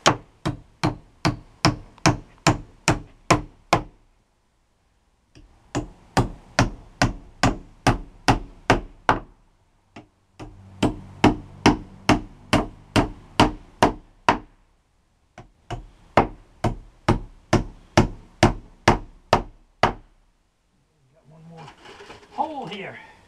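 Nails are driven into a shed wall with a hammer in quick, sharp, ringing blows, four close, loud runs of about ten strikes each separated by short pauses, ending with a brief bit of talk.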